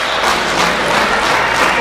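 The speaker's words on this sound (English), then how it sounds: "Crowd trying to encourage him" A wrestling arena crowd applauding steadily to encourage a hurt wrestler, dense continuous clapping filling the space without letup.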